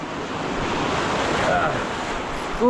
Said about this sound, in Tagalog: kaya malalaki yung alon